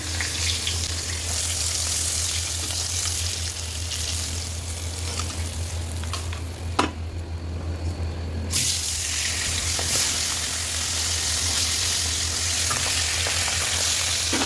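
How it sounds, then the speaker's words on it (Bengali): Steady loud sizzling of fish frying in hot oil, continuous throughout with a low hum underneath and a brief clatter partway. "কেটে মাছ ভাজবো।"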